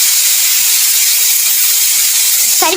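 A steady, loud hiss of steam escaping from a pressure cooker left on a home stove, continuous and unbroken, with a brief tonal sound at the very end.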